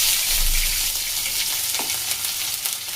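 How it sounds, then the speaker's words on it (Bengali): Peanuts, panch phoron (five-spice) and ginger frying in a pan, a steady close hiss and sizzle with faint stirring scrapes, no talk. "এবার এগুলোটা খুব সুন্দর করে ভেজে নেব।"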